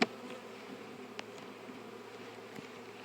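A continuous buzz of many honey bees around a hive being fixed after a drone-laying queen, soft and even throughout, with a small knock at the start.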